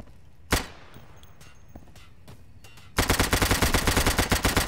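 A shotgun fires once in a video game, a single sharp blast, followed by scattered faint clicks and then a loud rapid burst of repeated gunfire that continues to the end.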